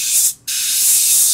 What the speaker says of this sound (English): now spraying white directly onto the lure